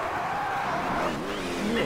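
A car in the rally video game Rally Factor drives and skids, its engine note rising and falling while tires squeal across the short stretch, with no one speaking.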